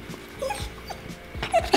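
A beagle growls and whimpers at a new Bengal cat indoors, several short close vocal bursts with yips and whines spread across the moment, no talk.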